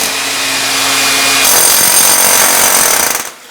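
A loud power drill grinds steadily into a concrete block basement wall for about three seconds, then cuts off abruptly.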